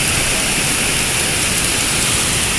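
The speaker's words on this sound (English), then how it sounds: "it's really raining hard" Heavy tropical storm rain pouring hard outdoors, a dense, loud, continuous hiss and roar of water with no pauses and no voices.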